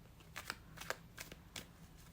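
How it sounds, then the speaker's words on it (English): An oracle card deck shuffled by hand, a quick series of soft papery riffles and flicks repeating several times at close range in a quiet room. "let's pick up your next oracle deck and shuffle with intention"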